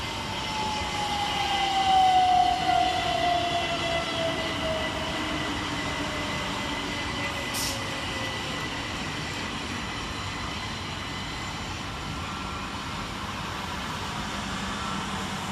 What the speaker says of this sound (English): Over on the far side arriving is 377446 and 377466, working the 1005 Southern Railway service from London Bridge to Caterham and Tattenham